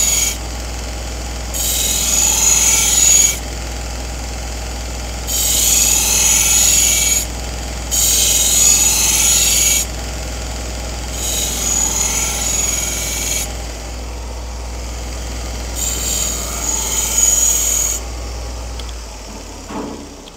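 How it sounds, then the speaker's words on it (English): Belt grinder polishing the thinned grind and stropping the edge of a Takeda nakiri knife, several passes of loud, steady rasping whine, each lasting a couple of seconds and separated by quieter motor hum, with no talking. "polishing the new grind, but also stropping the primary edge that I just sharpened"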